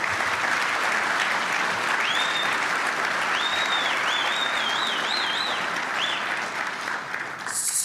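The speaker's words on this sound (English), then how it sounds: "So I'd like to give one more round of applause to Nancy Bird and the folks who run this gre" A room full of attendees at a business organization's annual meeting applauds steadily, an even wash of clapping held for several seconds, with faint whistle-like tones drifting above it.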